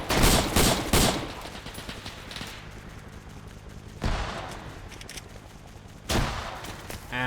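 Arma 3 video game gunfire, with bursts of loud rifle shots in a fusillade at regular intervals and quieter crackle and distant fire in between.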